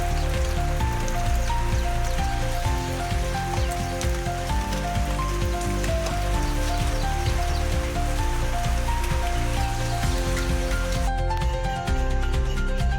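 Heavy rain falling at a bus stand, a dense steady patter on the shelter and pavement, continuous and fairly loud with no voices.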